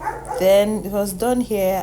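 A pet dog yips and whines in short, high, wavering bursts, mixed in with a person talking close by.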